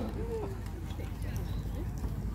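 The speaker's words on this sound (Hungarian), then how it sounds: "Ló! Ló!" Horse hooves clip-clop at a hussar memorial parade, a loose run of hoof strikes heard at middle distance while voices talk over them.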